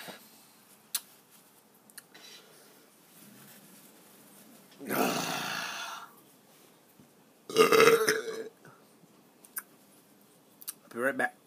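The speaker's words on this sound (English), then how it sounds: "I'll do another burp." A person lets out two loud, drawn-out burps after chugging a drink, separated by a few seconds of quiet with faint clicks in between, and a shorter burst closing the sequence.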